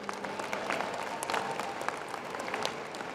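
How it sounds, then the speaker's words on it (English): Steady applause from a commencement audience at Howard University in 2023, honoring degree recipients, a continuous patter of clapping at moderate volume without pauses. "let's give them a round of applause again."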